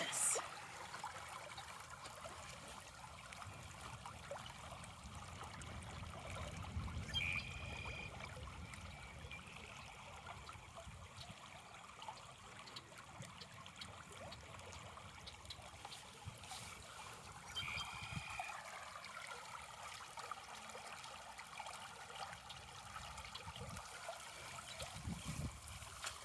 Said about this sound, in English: Sound of rushing water.